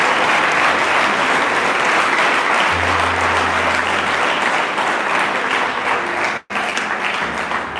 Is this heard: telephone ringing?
no